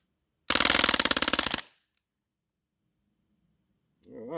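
A Crosman CO2 pistol, R1 or MK45, emptied in one full-auto burst: a rapid, loud rattle of gas-powered shots lasting about a second, then silence.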